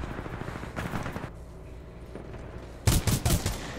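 Bursts of rifle gunfire from Titanfall 2 crackle in two volleys, a rapid cluster at the start and a louder, sharper burst near the end, separated by a quieter lull; no voices.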